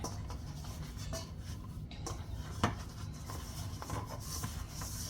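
Coconut bulla dough is rubbed and worked by hand in a basin, giving faint, close scraping and rubbing sounds in soft irregular strokes with an occasional light knock.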